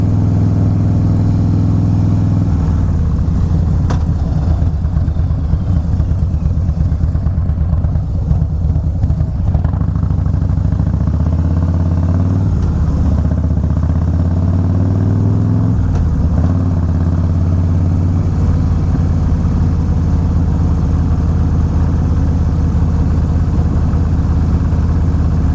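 A Harley-Davidson Fat Boy motorcycle's engine heard while riding at light throttle, a steady low V-twin rumble with a couple of gentle rises and falls in pitch, continuous and close, with wind noise.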